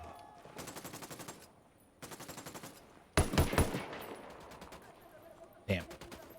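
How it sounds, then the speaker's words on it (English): Automatic weapon fire in the Ghost Recon Wildlands video game, several sustained bursts of rapid shots with heavier blasts near the middle and a sharp burst near the end, loud and close. "Opening fire."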